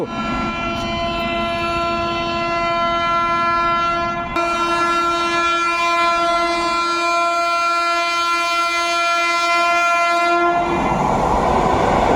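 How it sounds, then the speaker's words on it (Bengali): A CRS special train races past on a newly built line between Krishnanagar City Junction and Amghata, its horn blaring in a long, loud sustained chord over the rush of the passing cars, ending in broad rumble as it clears. "সেই লাইনে দ্রুত গতিতে সিআরএস স্পেশাল ছুটে বেরিয়ে গেল"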